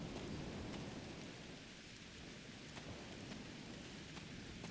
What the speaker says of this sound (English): rain on Ryza. I guess they haven't installed the weather control systems yet.